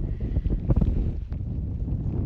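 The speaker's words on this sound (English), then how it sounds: "It is windy." Gusty wind at an ocean bay buffets the microphone in a low, rumbling roar, with uneven surges that rise and fall over a couple of seconds.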